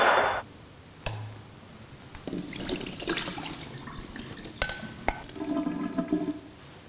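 Soaked arame seaweed strained off under running water, with a splashing tap-like flow and a few sharp clinks and knocks of a strainer or bowl at close range.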